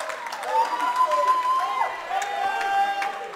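Crowd at a college basketball game in Regan Gymnasium, Albertus Magnus against Suffolk University, cheering and calling out in a steady, lively swell, with whistle-like tones and shouts rising above it.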